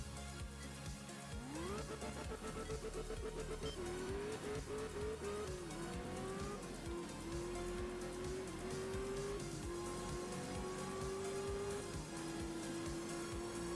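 A rally car in Art of Rally roars loudly through a stage, revving up through the gears with rising and shifting engine pitch, then holding a strained drone while tires squeal and skid on the corners; no talking.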